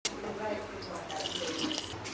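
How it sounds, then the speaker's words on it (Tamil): Water poured into a pot of kurma for idli and dosa, a steady splash of liquid running close by for about two seconds after a sharp start. "வேக வச்ச தண்ணி எடுத்து இதில் ஊற்றிக்குவோம்."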